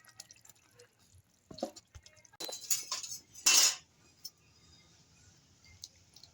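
A ladle scoops thin rohu fish curry with beans, papaya and potato from a cooking pot: scattered metal clinks against the rim and a few splashy pours and drips, close, then quieter.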